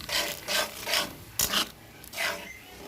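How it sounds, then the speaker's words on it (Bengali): Spice paste being stirred with a little coconut milk in a pan for a prawn malai curry, giving repeated rasping scrapes in a steady rhythm, close and fairly quiet, with no voices. "তারপরে ভালো করে মশলাটাকে একসাথে কষিয়ে নেব"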